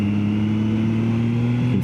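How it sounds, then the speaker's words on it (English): A three-cylinder motorcycle engine on its stock exhaust holds a steady high rev, a smooth continuous drone that stays moderately loud and close throughout, with no talking. "I really do like the sound of the triple when you get her up in the revs and get it roaring."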